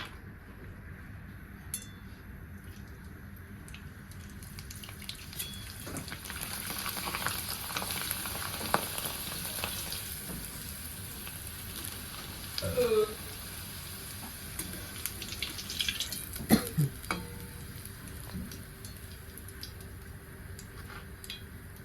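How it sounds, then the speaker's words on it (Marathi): Rice-flour kurdai frying in hot oil, a steady close sizzle running throughout with a few sharper crackles and pops, with no talking. "त्या तुम्हाला मी एक कुरवडी तळून दाखवते"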